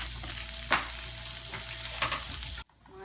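Butter, garlic and onion fry in a pan, a steady close sizzle with a few louder stirring scrapes, ending abruptly into near quiet.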